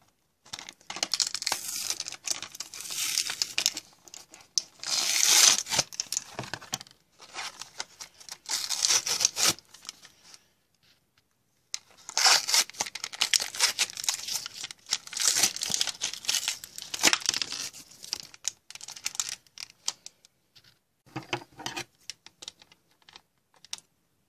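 Plastic toy packaging for an LPS figure being torn and crinkled open by hand, loud close rustling and ripping in bursts with a short pause midway.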